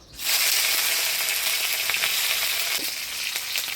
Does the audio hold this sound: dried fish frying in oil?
yes